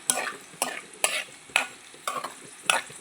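Ingredients frying in a pan on low heat while a spoon stirs them, six sharp scraping strokes at a steady rhythm over a soft sizzle, close and with no voices.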